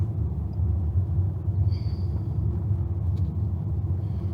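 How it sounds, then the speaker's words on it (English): Steady low road rumble of a car inching along in a line of traffic diverted off a main highway past a roadside fire, heard from inside the vehicle, with a faint brief whine partway through. "This line of traffic has all come around off the main highway."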